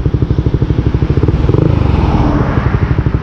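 A Raider 150 FI motorcycle engine revs loudly and close by while being ridden, a rapid pulsing drone that rises in pitch briefly before settling.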